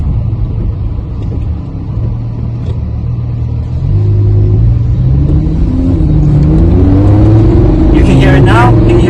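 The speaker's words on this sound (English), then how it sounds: "You can hear it now, how the engine accelerates." A Lamborghini Huracán LP610-4 engine accelerating hard, its loud, close roar climbing in pitch through several stepped gear changes, with a faint high whine near the end.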